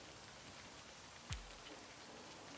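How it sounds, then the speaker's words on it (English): Steady rain hiss from a visual novel video game fills the scene at an even, soft level. A single brief thump lands midway. "You shouldn't stay out in the rain any longer."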